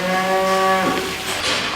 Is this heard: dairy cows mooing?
yes